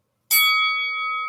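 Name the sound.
bell sound effect marking the start of round two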